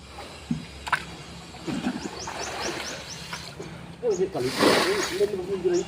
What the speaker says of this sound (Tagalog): sasalukin mo lang yung tubig, tatapon mo doon